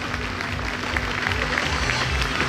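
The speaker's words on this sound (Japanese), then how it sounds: "皆さん今一度大きな拍手をお願いいたします" An audience applauds at an outdoor festival's award ceremony, with a dense, continuous patter of clapping and crowd noise that holds at an even level for a couple of seconds.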